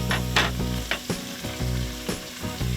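Butter sizzles and spits loudly in a very hot cast iron pan with a steak on a Big Green Egg grill, a steady frying hiss broken by sharp crackling bursts, close up with no talking.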